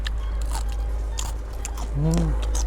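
Someone bites into crunchy food that is crispy on the outside and soft inside, giving several loud, close crunches spread across the moment, with a brief voiced sound near the end.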